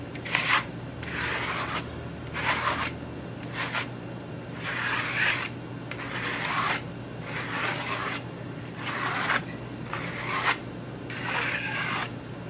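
Trowel spreading a metallic finish product across a surface, a repeated rasping scrape in strokes about a second apart over a steady low background hum, close and fairly clear.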